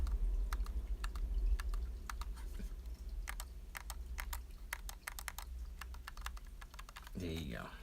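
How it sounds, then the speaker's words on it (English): Left bumper on an Xbox Elite controller being pressed repeatedly, giving sharp, light plastic clicks in irregular bursts at close range, with a faint voice briefly at the end. "the bumper, the left shoulder. You can hear it sounds like clicky, and now it bounces back."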